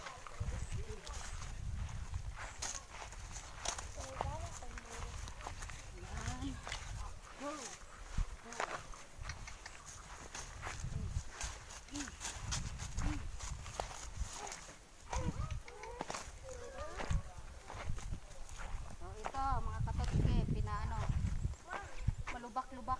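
Hooves of a lively, energetic horse clip-clopping on a bumpy, potholed road, an irregular stream of knocks running throughout beneath a man's speech.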